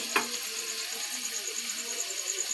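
Maggi chowmein noodles fry in a home kitchen pan with tomato and spices, giving a soft, continuous sizzle with faint voices in the background.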